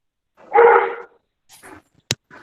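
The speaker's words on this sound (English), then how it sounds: "he keeps barking whenever he sees monkeys around" A dog lets out one loud, close bark, followed by a few fainter, short yelps and a sharp click in otherwise quiet surroundings.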